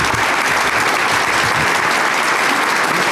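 A dense, loud wash of audience applause fills the room at a business incubator pitch event, steady and unbroken throughout.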